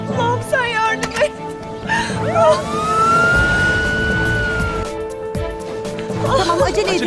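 An ambulance siren rises and holds a long wailing tone at middle distance, with people talking before and after it.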